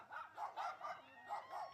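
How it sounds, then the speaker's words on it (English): A dog barks repeatedly in short bursts at a women's Australian football match, fairly close and loud, in an uneven rhythm with a whining edge. "There's a dog that's not too happy about that goal"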